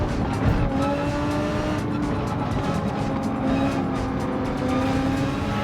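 Race car engines roar and tires squeal as cars overtake on a circuit in the racing game Gran Turismo 7, a steady, dense engine drone with layered pitches and no talking.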